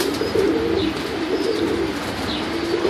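Young Tippler pigeons coo in soft, repeated throaty calls against constant loud outdoor rushing noise, with a few faint chirps mixed in.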